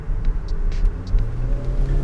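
A 13-year-old Saab 9-3 engine revving hard under full acceleration, a loud steady low rumble that swells and holds close up, with no talking over it.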